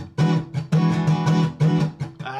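An electric guitar plays a rhythmic groove of several sharp, distinct chord hits with short gaps between them, including a quick triple figure on the third hit, loud and close with no voice.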